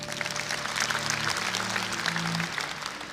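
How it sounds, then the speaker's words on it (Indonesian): Congregation applause during a church sermon, a short burst of dense clapping from the pews over a low sustained organ-like hum. "Anda boleh tepuk tangan untuk kebenaran ini."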